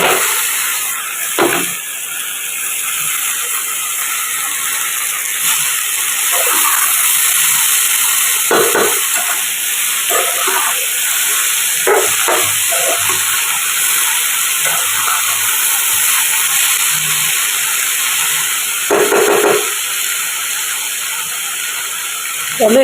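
Shredded cabbage added to fried potatoes sizzles in a pan with a broad, steady hiss and scattered faint crackles throughout, loud and continuous.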